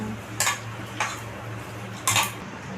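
Three sharp metallic clanks, one after another with uneven gaps, as a wok is set down and settled on a stove against a low steady hum.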